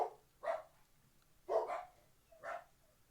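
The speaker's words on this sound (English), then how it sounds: "I'm sorry about the barking" A dog barks four times in a steady, spaced rhythm, moderately close and fairly clear, with no talking over it.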